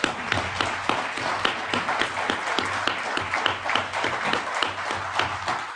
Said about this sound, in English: It means a lot to me to get at least one little bit of applause.